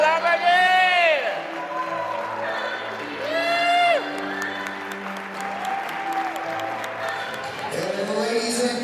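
Guests at a same-sex wedding at a bell tower applaud steadily with scattered cheers and whoops, while an announcer's amplified voice talks over the clapping throughout.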